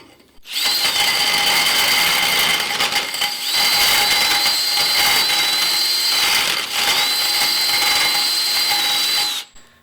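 A power drill run in reverse deburrs the inside of roll cage tubing, a loud, close, steady whine in three long runs separated by brief pauses, alone with no talk.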